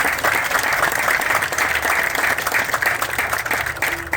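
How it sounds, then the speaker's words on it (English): An audience at a Viper TV show meet and greet applauds steadily, dense clapping filling the room for several seconds with no one speaking over it. "Could you give them a round of applause for"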